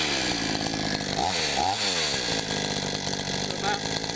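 A chainsaw cuts through pecan wood, its loud, steady engine drone close by and dipping briefly in pitch as the chain bites into the log; no speech is heard.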